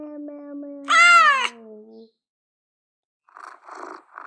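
A single loud, close cat meow from Google's cat paw search easter egg, over a faint low tone, followed by silence and then a few soft, muffled scratchy taps.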